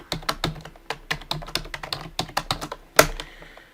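Quick run of key presses on a computer keyboard as a password is entered twice, close and clear, ending with one sharper, louder tap like the Enter key.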